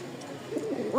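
A Raj Golla pigeon coos softly at close range, a short low warbling call rising near the end against a quiet background.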